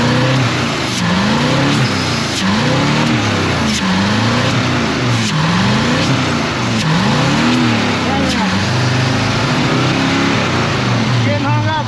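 A Chevrolet Monte Carlo engine running rough on four cylinders is revved repeatedly, its pitch rising and falling in a steady cycle of loud, close surges.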